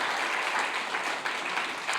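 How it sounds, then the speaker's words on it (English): An audience applauds after a poetry reading, a brief dense wash of clapping at steady loudness throughout the moment. "you don't have to applaud"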